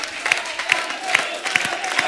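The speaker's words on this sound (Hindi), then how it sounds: "ओए बजाते रहो, ताली बजाते रहो" A studio audience at a comedy talk show claps in a dense, continuous patter with rhythmic emphasized beats, fairly loud and close throughout.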